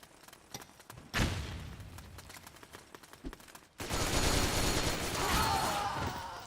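Gunfire in Metal Gear Online 2, with scattered sharp shots and clicks early on, then a louder, sustained burst of rapid shooting and action noise that fills the rest of the clip.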